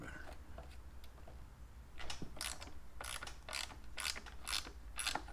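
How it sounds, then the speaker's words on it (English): A 1/4 inch drive ratchet turns a 13mm socket on an 81 C70 Passport dashboard, giving a run of close, quick ratcheting clicks in short bursts over a low background hum. "1/4" drive 13mm socket."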